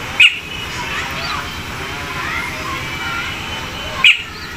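Caged oriole (kapodang) calling noisily: busy chirping and chattering calls under a steady hum of background noise, with two sharp louder chirps at the start and near the end.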